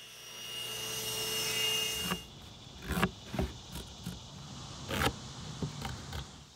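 A saw blade set at a 4-degree angle cuts boards for a fish cleaning table, a steady high whine that stops abruptly, followed by scattered knocks and clatter of handling the wood.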